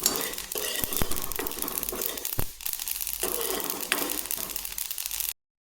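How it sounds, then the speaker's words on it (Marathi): Sesame seeds roasting in a hot kadai, with a steady dry scratching and rustling from stirring, broken by several sharp clicks of a utensil against the pan. "आता आपण तीळ भाजून घेऊ।"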